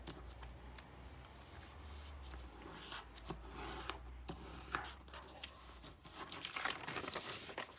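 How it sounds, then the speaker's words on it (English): Origami paper for a rose folded edge to edge and creased by hand, giving soft close rustling and crinkling with a few light taps and scrapes, growing busier toward the end. "we want to fold this edge up until we hit this edge, and just fold on the edge like this."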